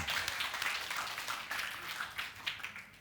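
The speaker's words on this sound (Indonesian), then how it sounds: "Tepuk tangan yang panjang buat Tuhan." A church congregation at a Sunday service gives long applause, many hands clapping together in a fairly steady stream that tapers slightly toward the end.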